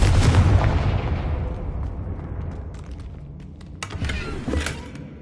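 A Confringo blasting spell explodes in the Hogwarts Legacy video game: a loud booming burst at the start rolls into a fading rumble, followed by scattered sharp cracks and hits.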